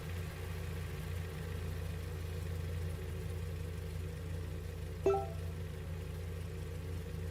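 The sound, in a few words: car engine idling in a video game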